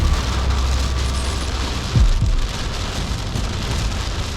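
Rain falls steadily during a thunderstorm, heard while storm chasing on a July day in Quebec, with a dense, continuous wash of drops and a brief low rumble partway through.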